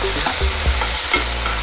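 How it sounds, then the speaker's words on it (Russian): Marinated onions frying in a pan with their marinade poured in, a loud, close, steady sizzle with light stirring clicks throughout and no talk. "Пришло время жарить наш лучок, который мы мариновали в самом начале."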